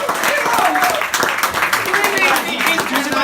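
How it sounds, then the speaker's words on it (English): Audience applause at a roast event, a room full of clapping heard close and loud, with scattered voices and cheers mixed in. "That deserves an applause."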